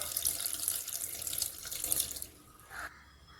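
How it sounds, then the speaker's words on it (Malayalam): Water runs steadily for about two seconds as a quarter cup is poured onto jaggery in a bowl, then stops, followed by a brief trickle and splash into the container. "അതിലേക്ക് കാൽ കപ്പ് വെള്ളം ഒഴിക്കണം"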